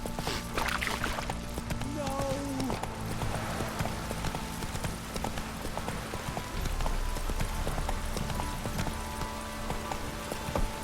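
Horse hooves clip-clop at a steady walking pace in The Witcher 3, set under continuous game ambience and music, moderately loud and even throughout.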